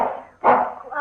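Small dog barking in an old radio detective drama, a short yapping burst near the microphone, mixed with voices from the scene.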